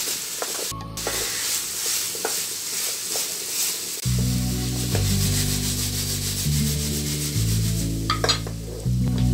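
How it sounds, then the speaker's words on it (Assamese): Chicken stirred through a spice mix for chicken 65, a continuous close rubbing and scraping of a spoon in a pan, with background music joining partway through. "ভালদৰে লৰাই লৈ চিকেনখিনি ইয়াত মিক্স কৰি দিম।"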